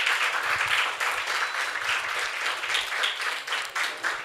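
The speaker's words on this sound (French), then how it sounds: "Applaudissez pour vous-même." Sustained applause from a crowd, steady and fairly faint, with no talking over it.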